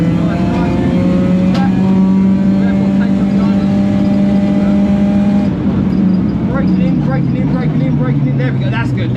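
A rented race car's engine revs hard and climbs in pitch as it accelerates, roaring loud and close, then shifts and drops before building again, with an instructor's voice talking over it.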